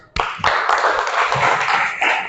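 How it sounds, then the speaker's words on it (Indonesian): Students in a classroom burst into applause all at once, clapping steadily for about two seconds before it starts to fade. "Beri tepuk tangan untuk teman-teman kalian."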